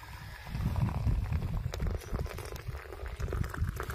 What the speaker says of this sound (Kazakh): Шайымыз қайнады.